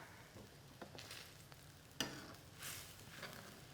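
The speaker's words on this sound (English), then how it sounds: "I'm gonna go in with those prawns now and just cook them for about a minute until they've changed color" Prawns cook in a pot of Malaysian laksa soup, with a soft, low-level sizzle and bubbling, a few light stirring scrapes and one sharp utensil clink partway through.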